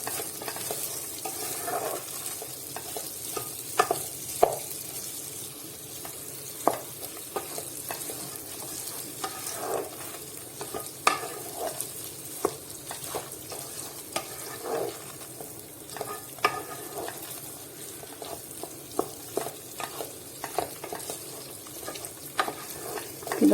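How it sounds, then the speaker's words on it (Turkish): Lettuce frying in melted butter in a pan is stirred, giving steady soft sizzling with repeated scraping and clicking strokes at close range, with no talk. "Şimdi bunu da güzel bir karıştıracağım."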